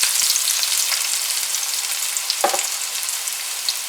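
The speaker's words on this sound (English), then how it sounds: "Our oil is hot. We're gonna add the onion first." Onions hit hot oil with a steady, bright sizzle while cooking egg fried rice, with a few sharp clinks and spatula scrapes against the pan partway through.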